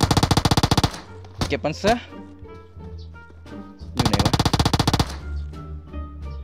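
Automatic gunfire in the video game PUBG's bug mode, two rapid bursts of fast, evenly spaced shots with a few single shots and thuds between them, loud and close, with someone briefly talking.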